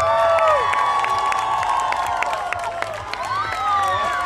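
A crowd gathered in a main square for an exhibition tennis match cheers and applauds steadily, a loud, continuous wash of clapping and shouting voices.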